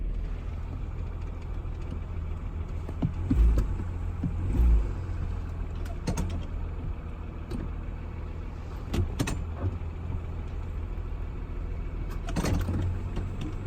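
A car just won at auction runs steadily in gear, a low continuous engine hum with a few brief thumps and clicks, close and without talk.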